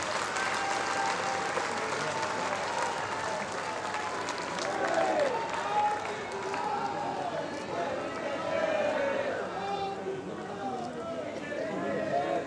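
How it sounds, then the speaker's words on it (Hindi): Crowd applause at a BJP election rally in Indore, a steady wash of clapping from a large gathering lasting throughout, with voices mixed into the sustained noise. "हाथ उठाकर तालियां बजाकर कैलाश विजयवर्गीय जी के विजय के बारे में"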